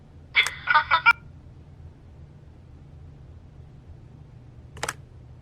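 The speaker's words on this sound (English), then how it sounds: "leave a message at the beep and we'll get back to you as soon as" An answering machine beep in The Wolf Among Us game: a short burst of several quick electronic tones, then a single brief tone about four seconds later over quiet room noise, no talk.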